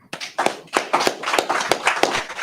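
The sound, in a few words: clapping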